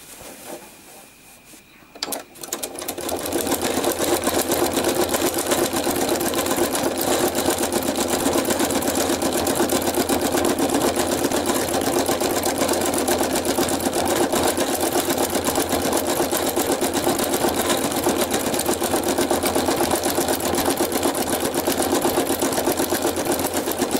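Sewing machine stitching an art quilt, a steady, loud, fast needle chatter and motor whir starting after a few quiet seconds and running continuously close up with no talking.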